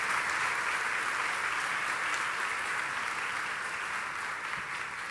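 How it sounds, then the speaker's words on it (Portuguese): Steady applause from a crowd fills the whole stretch, even and sustained, with no voices over it. "Uma salva de palmas?"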